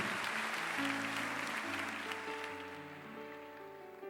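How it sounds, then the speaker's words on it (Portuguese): A church congregation claps in a soft, distant patter over sustained music tones, the applause slowly dying away. "Então, se crê, aplauda o Senhor Jesus Cristo."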